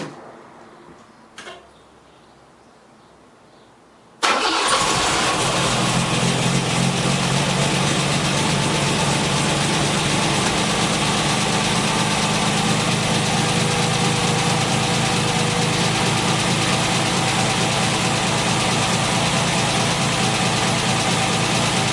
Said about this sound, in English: I should be able to turn the engine over and it should start no problem